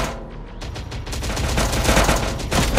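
Heavy gunfire in Terminator: Dark Fate – Defiance, with rapid overlapping bursts of automatic fire and shots building into a loud, continuous fusillade that lasts throughout.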